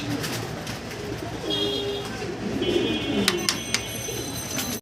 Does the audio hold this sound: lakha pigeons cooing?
yes